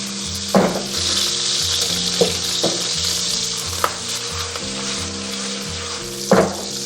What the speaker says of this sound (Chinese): 锅热到使用油，然后下入大虾，中小火煎。